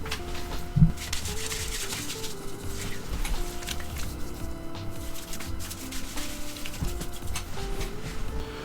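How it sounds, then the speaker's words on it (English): Hands work black soap into a lather on the scalp with soft, continuous close-up rubbing and squishing, steady throughout with a slightly louder bump near the start and no speech. "So we're washing our whole scalp."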